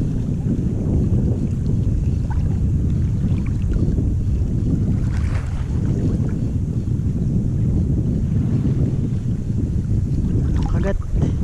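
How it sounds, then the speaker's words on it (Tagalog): Strong wind roars steadily into the microphone at a seaside fishing spot with rough waves, a loud continuous buffeting rumble with no break. "Malakas yung hangin."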